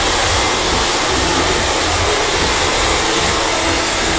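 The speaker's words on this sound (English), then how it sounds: "Most of you have a cool button on your blow dryer." Handheld hair blow dryer running steadily on its cool setting with the nozzle removed, a loud, constant broadband whoosh with no pauses and no talking.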